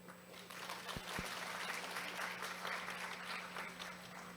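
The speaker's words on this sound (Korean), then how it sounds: "아키라 우수이 회장님께 다시 한번 큰 박수 부탁드립니다" Audience at an accounting association's international conference opening ceremony applauding, a soft, steady patter of many hands clapping from across the hall, with no speech.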